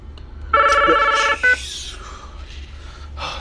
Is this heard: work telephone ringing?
yes